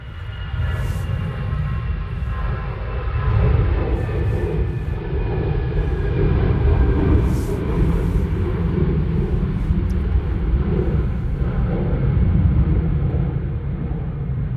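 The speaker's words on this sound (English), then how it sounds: "Can you hear the planes okay?" Jet airliners at Manchester Airport on a gusty day, heard outdoors: a steady, loud low rumble of engines with wind buffeting, no voices.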